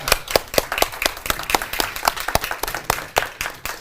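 Audience at a journalism seminar claps in a brisk, dense burst of applause, many hands close and loud, tapering slightly toward the end.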